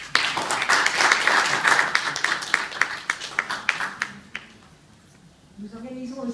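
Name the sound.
audience applauding at a rally ceremony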